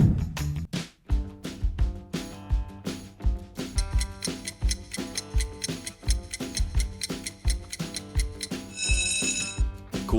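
A Coolpad smartphone ringtone rings out as a lively, rhythmic electronic tune with plucked-sounding notes over a steady beat, loud and close, with a shimmering chime layer near the end.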